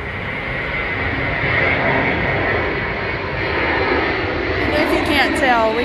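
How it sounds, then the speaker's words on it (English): An airplane passes overhead during a camping outing, a loud, steady engine roar filling the whole stretch and swelling slightly toward the end, with no talk over it. "we have an airplane going over right now, so we're gonna pause"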